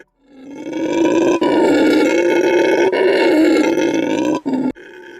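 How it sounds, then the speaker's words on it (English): Howler monkeys calling from trees as a VR environment sound, one loud, sustained roaring chorus that swells and holds for several seconds before breaking off, alone with no talk. "we added howler monkeys on the trees outside, with animations and this lovely sound"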